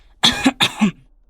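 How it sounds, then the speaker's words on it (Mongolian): A person coughs twice in quick succession in a corridor, with two sharp, close bursts separated by a brief pause and near silence on either side. "Шүн болохоор л коридорт хүн ханиалгах"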